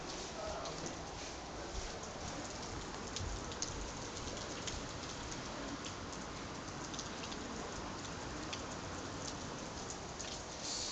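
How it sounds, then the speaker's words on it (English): Heavy rain pouring steadily outdoors, a dense unbroken hiss with scattered sharper drops pattering on nearby surfaces, loud and continuous throughout. "it's raining heaps, yeah, a lot. I'll show you a bit of the rain"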